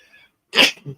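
A person sneezes once, close and sharp, followed by a short breathy tail. A faint voice murmurs just before it in an otherwise quiet room.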